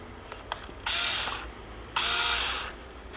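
Small Bosch IXO cordless screwdriver whirring in two short bursts, one to screw in and one to unscrew, close and fairly loud, with a brief gap and faint clicks between them.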